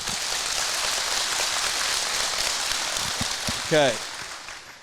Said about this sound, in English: I want you to clap if that's true.